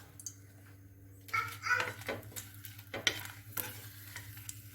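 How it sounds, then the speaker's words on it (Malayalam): Two dried red chillies crackle in hot oil in a pan, soft sizzling bursts over a steady low hum, quiet and close. "ഒരു പാത്രത്തിൽ അല്പം എണ്ണ ഒഴിച്ചിട്ട് അത് ചൂടായി കഴിയുമ്പോൾ അതിലേക്ക് 2 വറ്റൽമുളക് ചേർത്ത് കൊടുക്കാം"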